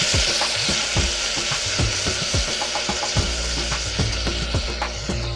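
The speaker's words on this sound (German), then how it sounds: "Lösche die Zwiebeln mit etwas Gemüsebrühe ab." Chopped onions and garlic sizzle in a pan as vegetable broth is poured in to deglaze, a loud steady hiss broken by clattering scrapes and stirring knocks from a utensil against the pan.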